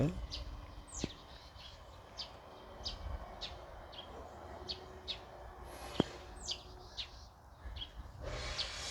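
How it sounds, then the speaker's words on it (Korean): Short bird chirps and calls repeat through the clip against a quiet background in a garden, with a couple of sharp clicks in between. "새소리가 새들이 노래를 부르고 있습니다."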